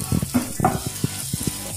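Coriander powder and tomato sautéing in a pan while fish cutlets are being made: a soft sizzle broken by short, irregular scraping and stirring knocks, close by, with no one talking.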